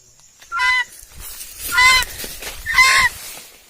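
A village chicken gives three loud, harsh honking squawks in separate bursts, close by and with no talk between them.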